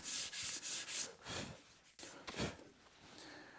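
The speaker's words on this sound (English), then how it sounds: "So we'll come back with 180 and finish sanding." 180-grit sandpaper rubs back and forth across a wooden rolling pin in quick, close strokes, a soft rhythmic scratching with a few irregular passes.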